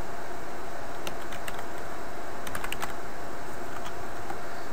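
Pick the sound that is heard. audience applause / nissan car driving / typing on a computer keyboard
typing on a computer keyboard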